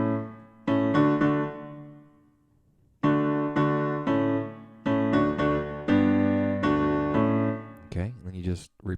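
Piano chords of the intro to a song from A Goofy Movie, played in easy inversions, ring out in sustained clusters with a pause after the first chord, then steady repeated chords, ending with a brief vocal sound.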